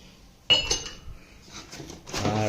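The lid of a green 55-degree constant-temperature coffee mug is handled, producing a sharp initial clink followed by softer rattles and a final clattering contact, close by in a quiet room.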